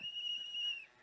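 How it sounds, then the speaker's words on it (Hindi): A single sharp, sustained whistle, bright and fairly close, holds steady for most of a second at a song launch event, then cuts off, with faint room noise around it. "तो इसी बात पर आपकी भी एक सीटी है"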